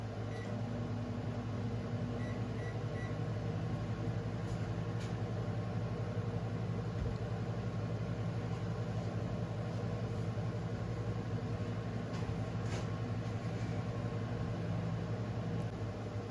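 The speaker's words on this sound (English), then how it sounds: "I'm gonna put those back in the microwave, and we're gonna get those up to about 360 degrees." Microwave oven heating a plastic fishing bait mix, a low steady hum and fan drone that runs on evenly at a quiet level with no talk.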